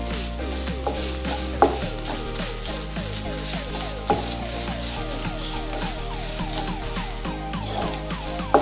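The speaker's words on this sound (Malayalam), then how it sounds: "നമുക്ക് നല്ല ബ്രൗൺ ആയിട്ട് വറുത്തെടുക്കണം" Cumin and spices sizzle and crackle in hot oil, frying to brown for a potato curry, while a spoon scrapes and stirs the pan in repeated strokes, close and steady throughout.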